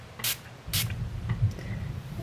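Two short, bright bursts of a fine water mister sprayed from about a foot away onto watercolor card, each a quick hiss, with a low room hum underneath.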